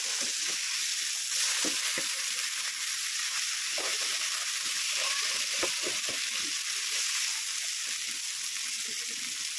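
Masala frying for a small fish dish, sarpunti, sizzling steadily in a pan with a loud continuous hiss, while scraping stirs and turns come through as repeated short knocks throughout.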